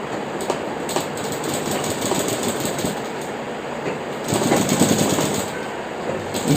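A sewing machine stitches the back pocket of a pair of pants, running in a steady rapid mechanical clatter close up, briefly louder and faster near the end, with no talking.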